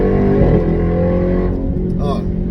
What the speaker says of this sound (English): I love the Borla exhaust, by the way.